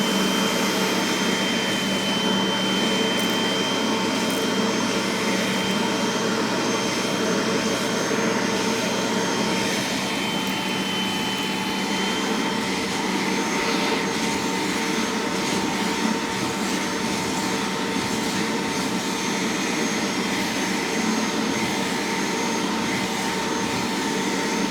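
A BISSELL Little Green multi-purpose carpet cleaner runs its suction over carpet, giving a loud, steady, close motor whine and rushing airflow that holds unbroken throughout with no voices.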